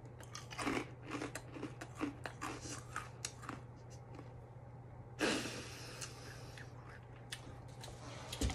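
Crunchy homemade sponge toffee dipped in chocolate being bitten and chewed up close, with irregular crisp cracks and crunches over a steady low hum and one louder burst of crunching partway through, with no talking.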